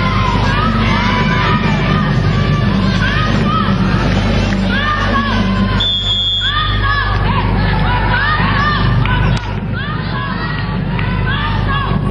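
Spectators at a women's Asian U19 volleyball championship match between Hong Kong and Kazakhstan cheer for Hong Kong in a loud, steady crowd roar of shouts and chants, with a commentator talking over it.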